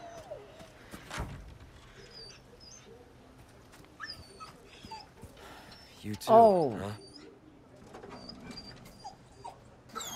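A dog in Resident Evil 4 lets out a loud, wavering whimper partway through, set among quiet ambient noise and a few brief spoken words.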